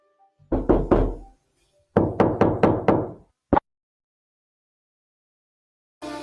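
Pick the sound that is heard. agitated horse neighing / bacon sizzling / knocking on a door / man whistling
knocking on a door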